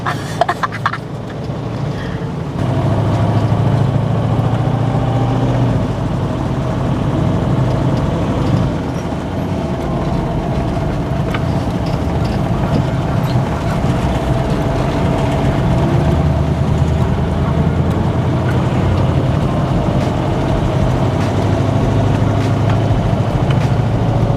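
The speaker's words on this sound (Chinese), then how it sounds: "可以听到它加速的时候声音是" A fifty-year-old classic Mercedes-Benz W108 engine accelerates as a steady, loud, rumbling drone that holds for most of the stretch after a quieter start.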